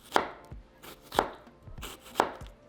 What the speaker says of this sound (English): so our onion, we're going to cut them into half moons